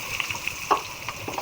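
Mashed olives cook in oil in a pan for homemade olive pickle, giving a soft, steady sizzle with a few small pops and stirring clicks, quiet and close.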